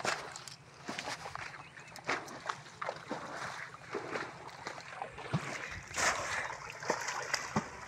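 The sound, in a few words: water splashing as someone bails water out while fishing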